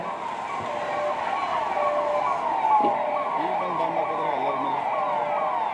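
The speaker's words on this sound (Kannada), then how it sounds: "ಆಂಬ್ಯುಲೆನ್ಸ್ ಆಗಮನವಾಗಿದೆ" A wailing ambulance siren sweeps up and down continuously, fairly loud and steady, with traffic noise and faint voices underneath, during an air raid mock drill in Shivamogga.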